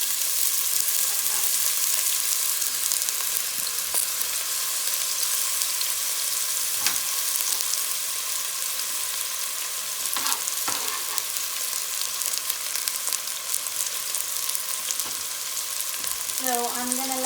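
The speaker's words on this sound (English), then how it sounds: "I'm gonna add the onions and fry them until they're nice and" Onions frying in a pan for vegetable biryani, a loud steady sizzle running throughout with occasional faint clinks, and a brief voice at the very end.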